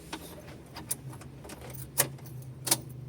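Near a Suzuki DA17V minivan, an ignition key jingles and clicks in a few sharp metallic bursts against a low, steady hum.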